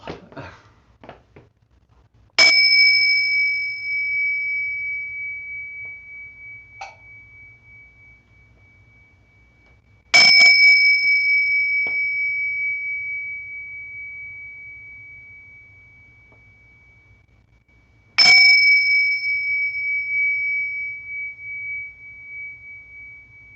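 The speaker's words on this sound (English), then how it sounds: "let me ring the bell" A meditation bell rings three times during a Taoist meditation session, each clear metallic strike ringing out and slowly fading over several seconds before the next, in an otherwise quiet room.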